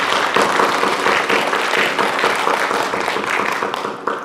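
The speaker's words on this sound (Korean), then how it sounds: "수고했다고 박수 해주십시오" A church congregation applauding during a Sunday service, dense sustained clapping from many hands filling the room, loud and even throughout.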